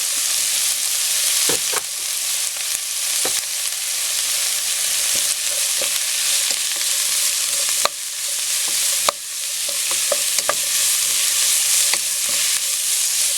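Chopped onion and carrot sautéing in oil for sotanghon soup, a steady close sizzle with occasional scraping stirs and light clinks of a utensil against the pan.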